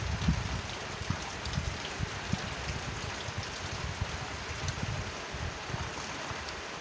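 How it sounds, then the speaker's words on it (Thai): Dense, even rainfall pours down outdoors during a meal of grilled fish and bamboo-shoot soup, a constant loud hiss with scattered drip taps and no break. "อืมฝน"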